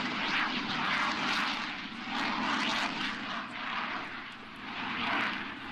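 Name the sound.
aircraft flying at an air show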